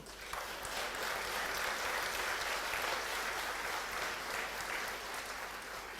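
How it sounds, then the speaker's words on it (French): Steady, dense audience applause fills a hall during a mayor's New Year's greetings ceremony, sustained and even throughout without a break. "On peut applaudir ça aussi."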